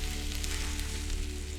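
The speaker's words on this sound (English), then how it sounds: "Let it sizzle." Batter-coated meat fries in hot oil in a pan in the cooking game Cucina Stellata, giving a steady, close, crackling sizzle that runs unbroken and alone.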